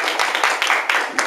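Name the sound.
audience applause for Professor Kurniawan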